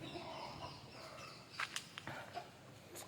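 A black hen in its coop lets out a few short, faint clucks in a quick cluster midway, over a soft background hiss.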